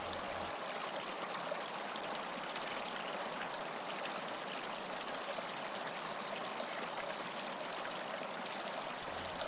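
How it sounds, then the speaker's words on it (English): Running water leaks through a beaver dam at a pond in fall, a steady, continuous trickling and gushing rush that stays constant throughout, close and unbroken, with no voices. "The sound of running water is a stimulus that triggers beavers to plug up leaks."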